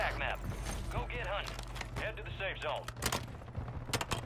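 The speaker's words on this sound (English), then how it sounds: "That SMG sound nasty as fuck" Submachine gun fire rattles in a Superstore Resurgence video game match, sharp rapid bursts that sound mostly under excited voices talking, then stand out more clearly toward the end.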